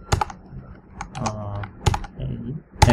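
Computer keyboard keys pressed in a short burst of separate clacks, close and fairly loud, during Kotlin coding in an IDE; a faint voice may murmur between the keystrokes.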